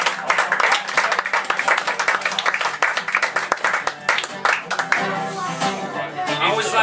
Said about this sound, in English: I think you all need a round of applause.